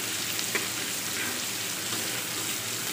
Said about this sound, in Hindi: एक चम्मच अदरक और लहसुन का पेस्ट शामिल करेंगे, और इसको हल्का सा फ्राई करेंगे।